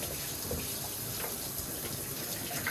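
Water pouring from a tap to fill a bath for a wolf-hybrid dog at grooming: an even, continuous hiss and rush, fairly quiet and unbroken from start to finish.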